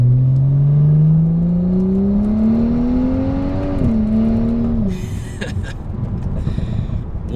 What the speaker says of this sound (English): I love those burbles, man.